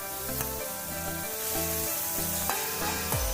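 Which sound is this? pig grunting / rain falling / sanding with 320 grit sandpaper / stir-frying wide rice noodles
stir-frying wide rice noodles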